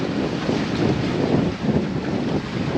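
A sailboat under way at 4.5 knots in the Bahamas, towing a dinghy, with a steady, loud rush of wind and water that stays continuous throughout, with no voices.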